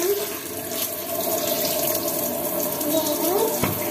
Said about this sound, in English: It's from tap water.